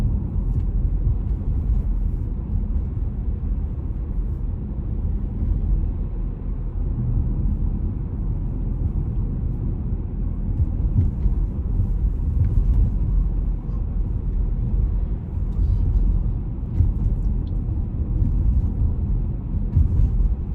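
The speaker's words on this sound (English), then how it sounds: "there's a bunch of tanker trucks and stuff" Heavy tanker trucks rolling past on a road during an evening walk, a steady low rumble of traffic that stays fairly loud throughout with no clear gaps between vehicles.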